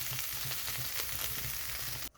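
Pea pod peels frying with shrimp in a hot pan, a steady close sizzle with soft stirring crackles that continues evenly and then cuts off abruptly.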